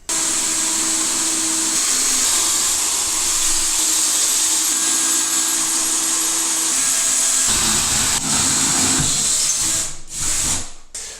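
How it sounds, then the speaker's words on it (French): An electric drill bores a small pilot hole through bathroom tile with a continuous loud, close whine that holds steady for several seconds before cutting out, with no talk. "Je fais un petit avant-trou à 5, et ensuite je viendrai percer à 8."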